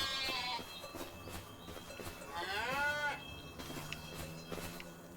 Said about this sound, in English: And we got a mixture of cattle over here.